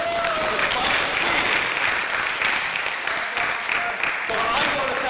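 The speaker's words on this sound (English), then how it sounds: "I think we owe a sincere round of applause to our officer who made no arrests tonight." An audience at a school graduation hypnotist show claps steadily, a dense sustained applause at moderate level while a voice speaks faintly over it.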